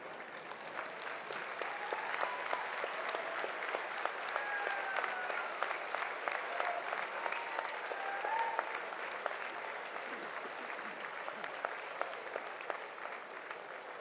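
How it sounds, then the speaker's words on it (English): A large audience gives a sustained round of applause for graduates at a university convocation ceremony, steady even clapping from a distant crowd with a few faint voices mixed in. "join me in a round of applause"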